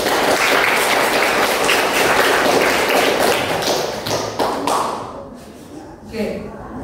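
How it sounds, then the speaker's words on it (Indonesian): Applause from a group in an Indonesian classroom, dense clapping that holds steady for several seconds and then thins out, with voices mixed in. "Tepuk tangan dulu."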